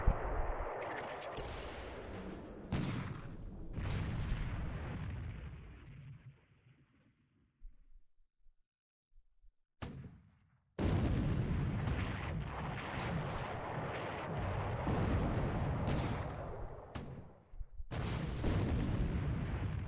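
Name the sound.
4-inch shell hits on destroyers, WWII naval video game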